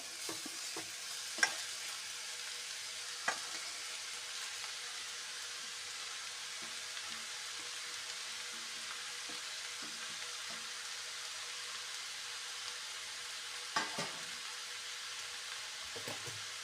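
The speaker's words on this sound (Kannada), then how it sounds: "ಕಡಿಮೆ ಉರಿಯಲ್ಲಿ ಫ್ರೈ ಆಗಲಿ" Jackfruit pulao fries gently on a low flame, a soft steady sizzle with a few light stirring scrapes and clinks, quiet and close, with no talking.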